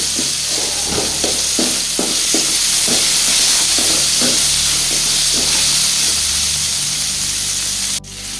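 Loud hissing sizzle of pea greens frying in a pan, with a series of rhythmic scraping stirs and a sharp clack near the end.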